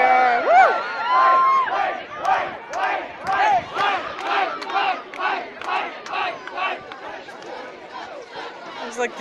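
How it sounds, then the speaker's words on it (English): A high school junior class cheers at a pep rally, a loud crowd of many voices yelling and whooping in rhythmic surges that rise and fall throughout. "It's like the junior class cheering for the king"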